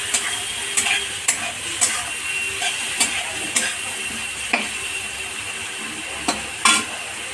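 Mushroom kofta curry sizzling in a pan after yogurt goes in, with a steady frying hiss and regular sharp scrapes and clinks of a spoon stirring, close and fairly loud.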